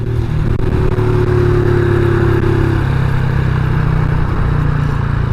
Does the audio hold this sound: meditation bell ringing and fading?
no